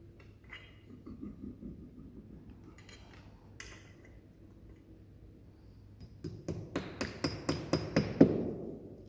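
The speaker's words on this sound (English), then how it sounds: "Jeff is now going to put in the plugs." Quiet rustling gives way to a quick series of about ten sharp hammer taps driving plugs into drilled holes while installing stair nosing, close and evenly spaced, growing slightly louder toward the end.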